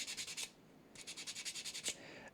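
Sandpaper rubbed in quick back-and-forth strokes over the edges of a 3D print made from magnetic iron filament, two short bursts of rhythmic close scratching separated by a brief pause, quiet and without talk.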